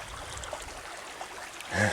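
Creek water trickles and gurgles steadily at close range, a soft continuous babble with no voices.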